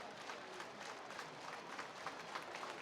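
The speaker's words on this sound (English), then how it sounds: "Crowd making noise for Carson Skipper" Baseball crowd at a Hartford Yard Goats home game against the Somerset Patriots, cheering and clapping for pitcher Carson Skipper, a steady wash of distant applause and voices with no break through the whole stretch.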